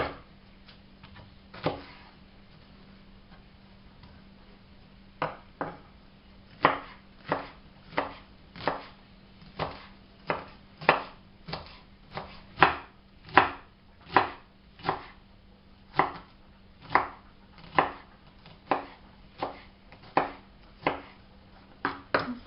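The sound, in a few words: chopping vegetables finely for a lentil loaf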